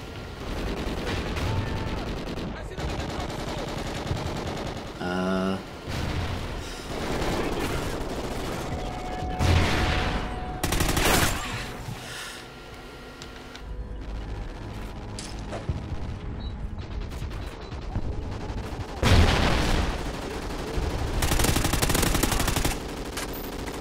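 Automatic gunfire and bursts of shooting from the Call of Duty: Ghosts multiplayer video game ring out loud and nearly continuous for the whole stretch, with sharp booms near the middle and end, while a player talks over the action.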